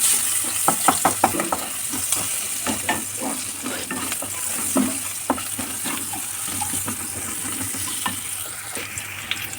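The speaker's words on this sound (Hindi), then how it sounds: "हम इसमें डाल देंगे अपने ये कटे हुए प्याज और हरी मिर्च" Chopped onions and green chillies frying with turmeric in a pan in a home kitchen, a steady close sizzle with scraping stirs and clinks throughout, no talk.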